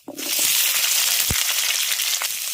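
Chopped green tomatoes drop into hot tempered oil, setting off a loud, steady hiss of frying that begins abruptly and keeps sizzling, with a small clunk partway through.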